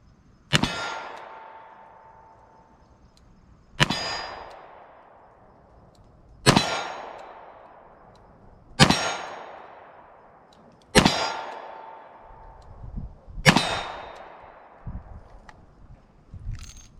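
A 2020 Colt Python .357 Magnum revolver with a 6-inch barrel fired double action at a moderate pace, six loud sharp shots spaced a couple of seconds apart, each ringing out with a long decaying tail.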